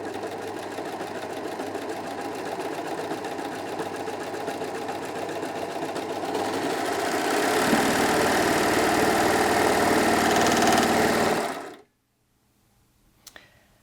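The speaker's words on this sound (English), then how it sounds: "I'm going to go ahead now and sew a blind hem stitch." Brother 3034D overlocker running continuously to sew a blind hem, a steady close mechanical whir that grows louder partway through and then stops abruptly, leaving faint clicks.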